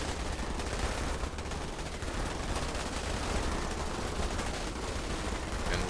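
Troops open fire in the sci-fi real-time strategy game Starship Troopers Terran Command, a steady, dense stream of overlapping gunshots that continues for the whole stretch without pause.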